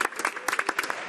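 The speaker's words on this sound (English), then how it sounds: "I invite all colleagues to join me in a round of applause for these brilliant, exceptional technicians and engineers." Members of the House of Commons clap in a quick burst, close and moderately loud, with uneven overlapping claps and no voices.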